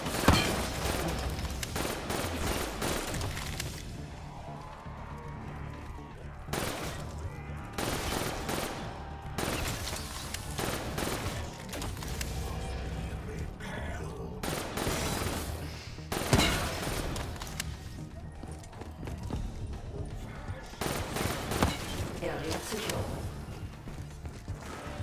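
Bursts of M8A7 rifle fire in Call of Duty Black Ops 3 Zombies on the Gorod Krovi map, with repeated rapid volleys separated by short pauses amid game mechanisms and effects, loud and close.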